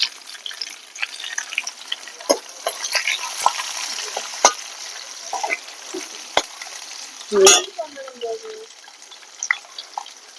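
Small onions, curry leaves, crushed garlic and two dried red chilies fry in a pan, giving light crackling and spitting with scattered sharp pops and one loud burst near the end, along with faint watery sounds.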